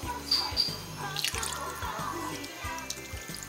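Water pours into a cooking pot holding pork hock, with a steady splashing trickle and bubbling close by that carries on for several seconds.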